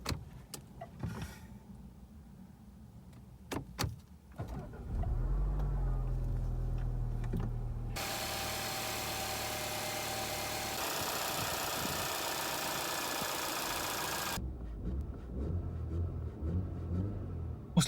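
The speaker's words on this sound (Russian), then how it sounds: "Запускаем двигатель и прогреваем до рабочей температуры." A 2014 Audi A4 B8 with the 1.8 TFSI engine is cranked and fires up, settling into a steady idle with a brief higher-pitched whir partway through, after some faint knocks and handling noises at the start.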